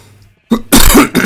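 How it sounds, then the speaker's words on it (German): A man clears his throat close to the microphone in two or three loud, rough bursts that sound partly like a cough. "Musste mir mal einen zurecht räuspern."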